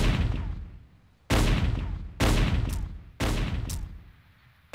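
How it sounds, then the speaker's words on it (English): Bullets fire in Sonic the Hedgehog (2006) during Shadow's story: four loud, sharp shots about a second apart, each trailing off in a long echoing decay, with no voices. "we're shooting bullets at him"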